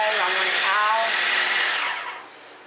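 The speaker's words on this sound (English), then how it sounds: "mine is a Hamilton Beach food processor, and I'm just going to put it on one right now and let it go" A Hamilton Beach food processor on its first speed purees fresh Silver Queen corn for cornbread, a high, steady motor whine that runs about two seconds and then cuts off and winds down.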